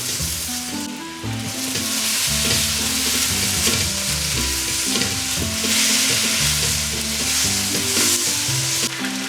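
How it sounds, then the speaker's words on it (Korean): Chicken pieces and chopped green onion stir-frying over high heat in rendered chicken fat, a loud continuous sizzle broken by frequent scraping, stirring clatters of a utensil against the pan, with no voices. "이때 썰어둔 파를 넣어 같이 볶아줄게요"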